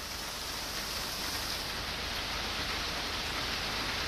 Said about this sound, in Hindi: आगे नहीं बढ़ सकती हैं क्योंकि बारिश बहुत तेज है